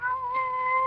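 A single drawn-out cat meow, clear and close, sounds alone for about a second in an old radio drama.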